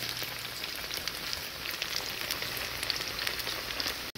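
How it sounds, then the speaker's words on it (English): Snapper fish frying in hot oil, a dense, continuous crackling sizzle with scattered pops, close and steady throughout. "I'm gonna let it fry for another 3 more minutes"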